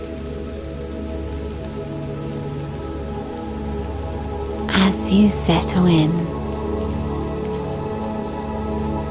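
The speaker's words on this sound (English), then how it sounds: "listen to the gentle sound of rain falling around you." Gentle rain falls in a steady, soft patter outdoors, continuing throughout while a calm voice speaks over it.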